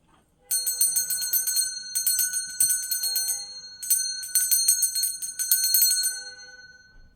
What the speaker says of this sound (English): I'm gonna ring a bell. This is just to cleanse the space around us.